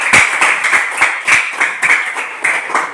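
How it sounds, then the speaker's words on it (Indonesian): Students clapping their hands in an Indonesian classroom during a teaching practice lesson, a close, lively burst of irregular claps that keeps going for several seconds with no voices over it. "Berikan tepuk tangan dulu buat kalian"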